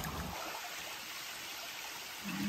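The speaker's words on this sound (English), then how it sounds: "Here's creek crossing number" Creek water flowing steadily at a forest trail crossing, a close, continuous rushing wash with no talking.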